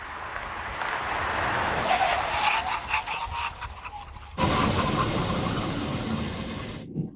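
An AMG G63 or Defender OCTA braking hard from 160 km/h: a loud, close roar of road and wind noise with squealing tones, which shifts abruptly midway and cuts off near the end.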